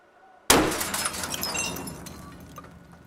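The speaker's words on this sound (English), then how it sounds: "Ooh, do you hear that, like, ping sound?" Shaped charge explosion detonated in water, followed by a sharp shrapnel burst: one sudden loud crack with bright shattering, metallic ringing that slowly decays over a few seconds.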